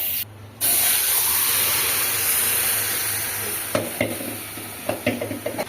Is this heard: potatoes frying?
yes